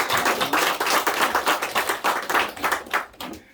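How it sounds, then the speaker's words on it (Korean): Worshippers at a Sunday church service clap in praise; a crisp, rhythmic run of hand claps with regular strong beats that tapers off at the end. "우리 하나님께 영광의 박수를 올려드리겠습니다"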